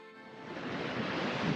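Sea waves at Puri beach, a brief surge of broadband surf rushing in and building in loudness over about a second and a half, with no voices.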